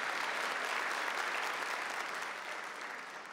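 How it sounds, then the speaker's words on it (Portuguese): Steady, dense applause from a church congregation at a Catholic Mass, sustained and even throughout before fading slightly toward the end, with no speech over it. "E aplauda o Senhor das nossas famílias,"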